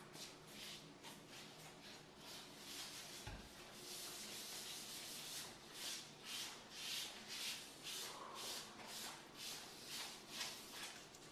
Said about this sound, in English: Seal the island again, applying liberal amount, rubbing it into the edges